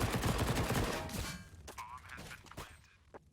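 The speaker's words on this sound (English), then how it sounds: "Is going to be the receiving end of those P250 bullets." P250 pistol shots in CS:GO on Overpass, several sharp, fairly quiet cracks scattered unevenly in the latter half, following a denser noisy stretch of game sound at the start.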